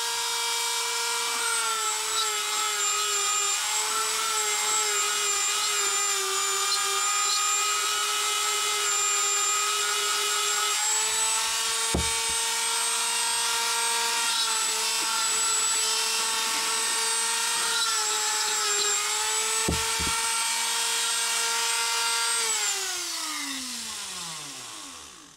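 A Dremel flex shaft with a burr carves a wood spirit face, giving a continuous high-pitched whine that holds steady for over twenty seconds, briefly dips with contact, and winds down at the end, close and alone.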